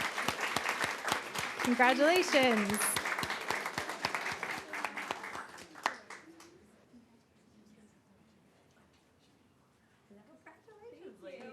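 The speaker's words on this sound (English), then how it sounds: "Let's give them a round of applause." An audience at a town council awards presentation breaks into loud, sustained applause that gradually fades after about six seconds, then gives way to quieter sounds and a voice speaking briefly.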